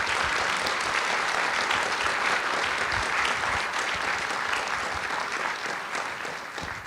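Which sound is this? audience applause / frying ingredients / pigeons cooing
audience applause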